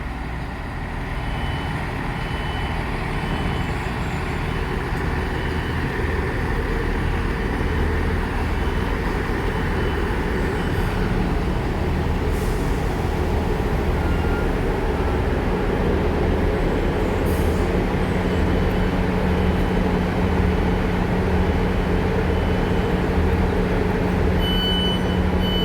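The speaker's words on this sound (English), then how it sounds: "here comes my train" A train pulls in with a loud, continuous low rumble of wheels and railcars rolling close by, joined by faint metallic squeals and steady hum that keep going for the whole stretch.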